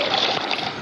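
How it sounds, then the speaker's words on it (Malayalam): A brief burst of flowing water as a bucket of water is placed in Minecraft, a soft trickling splash lasting under a second. "ഒരു ബക്കറ്റ് വെള്ളം അപ്പുറത്തെ സൈഡിലും കൂടി വെക്കാനുണ്ട്."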